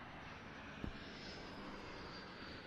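An aerobatic airplane engine drones at an airshow during a hesitation roll, a steady, fairly distant hum with a faint thump partway through.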